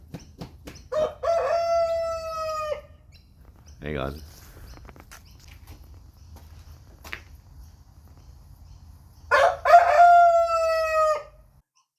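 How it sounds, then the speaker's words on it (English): A rooster crows twice, a loud, drawn-out call near the start and another near the end, while someone speaks briefly between them in a backyard where a chicken enclosure is being built. "We've got another rooster."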